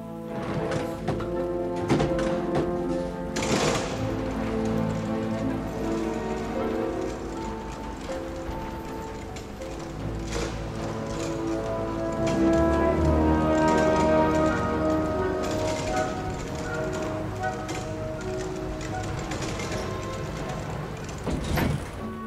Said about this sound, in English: Rain. Always rain.